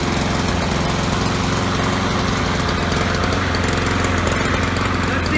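A small lawn mower engine, under repair for starting easily but running poorly, runs rough and sputters, with a steady loud drone that carries on throughout.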